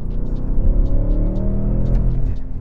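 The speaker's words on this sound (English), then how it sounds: "The engine makes such an incredible note at some point." A new Audi S8 pulls hard, its engine rumbling deep and smooth with a rising, layered tone heard from inside the car, steady and fairly loud without speech.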